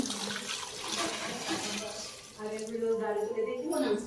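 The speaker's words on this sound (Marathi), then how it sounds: "आता याच्यामध्ये उकडण्यासाठी हे गेलं पाणी." Water pours steadily into a pot of chopped vegetables, beetroot among them, set for boiling, a broad rushing splash that turns into a rising, ringing fill in the second half.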